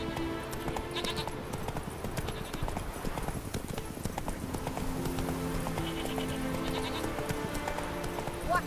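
Horse hooves clip-clop in a steady galloping rhythm, close and continuous, in The Witcher 3 video game, with game music and ambience layered underneath.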